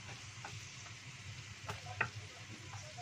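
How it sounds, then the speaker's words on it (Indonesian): Chicken wings fry in hot oil in a home kitchen, a faint, steady sizzle with a few soft clicks and stirring taps underneath. "terus langsung menggoreng sayap ayamnya ya guys ya"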